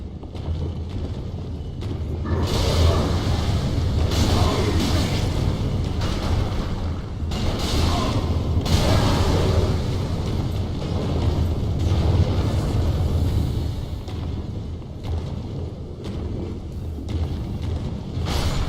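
An enemy's fire-spewing weapon in the Dark Souls 3 video game roars in long, loud rushing bursts with rumbling booms, swelling and fading over sustained game background noise without speech.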